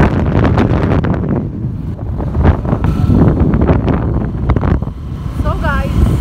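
Heavy wind noise buffets the microphone while riding a motorbike on the road to Eket in Akwa Ibom, Nigeria: a continuous loud roar and rumble, with a brief faint whistle-like tone near the end.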